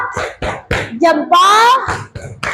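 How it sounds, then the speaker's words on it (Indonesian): Classroom group clapping their hands, several sharp claps at an irregular rhythm, close and loud, mixed with children's voices and a short cheer. "tepuk tangan dulu dong"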